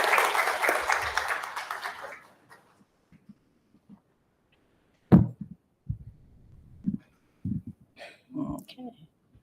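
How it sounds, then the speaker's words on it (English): A board of education meeting audience applauds parents in a brief burst that fades out within about two seconds, followed by near silence, scattered thumps and a few spoken words. "We should give them a round of applause."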